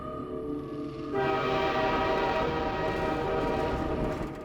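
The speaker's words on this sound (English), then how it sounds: "Just like how we started on a tram in Half-Life 1, we also start on a train here." A train from the Half-Life 2 intro rumbles steadily with a sustained horn-like drone, growing louder and fuller after the first second and holding a dense rolling roar with no speech.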